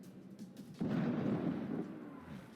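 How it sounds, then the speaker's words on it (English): Ship cannons boom in the video game Assassin's Creed Rogue, a heavy low blast erupting partway through and rumbling on as a sustained roar that slowly fades, preceded by quieter thuds. "Why the fuck are you shooting cannons?"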